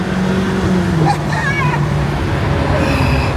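New Ferrari engine switched into race mode, giving a steady mechanical drone from inside the car while people talk over it.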